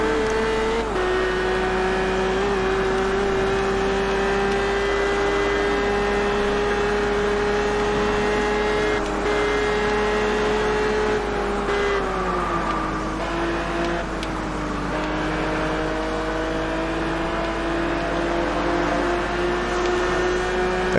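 Racing car engine from the Xbox 360 game Test Drive Unlimited holds a loud, steady high-speed drone with only slight pitch dips as the car shifts and cruises, running alone without talk.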